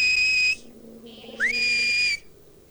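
A shepherd whistles signals to a sheepdog: two long, loud, steady whistle blasts, the second starting with a rising swoop, separated by a brief lower tone.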